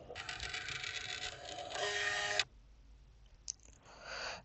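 An HP Envy 6120e printer scanning a document gives a faint mechanical whir and buzzing hum from the scan head for a couple of seconds, then a quieter motor whine with a small click.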